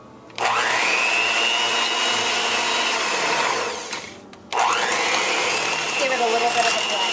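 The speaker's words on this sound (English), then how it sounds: "I'm going to take our hand mixer, and then I'm just going to very gently" A hand mixer blends coconut milk with mung beans, its motor whirring loudly and close, spinning up, winding down briefly, then starting again.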